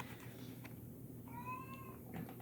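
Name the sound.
cat meowing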